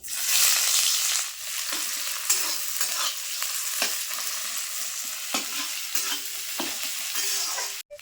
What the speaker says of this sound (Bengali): ফোড়ন ভাজা হয়ে গেছে এবার দিয়ে দেবো পেঁয়াজ কুচি